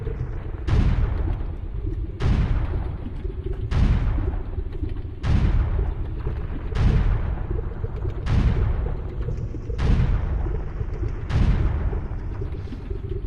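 Bombs exploding one after another in Ocarina of Time, about nine sharp blasts at an even roughly one-and-a-half-second rhythm over a low sustained background, each burst decaying quickly.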